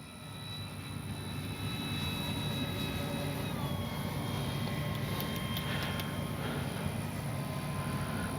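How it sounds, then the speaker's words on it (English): A Dynam F6F Hellcat radio-controlled warbird coming in to land, its electric motor giving a steady, faint whine that shifts down in pitch as it slows, heard from a distance over outdoor background noise. "Let's actually land the plane."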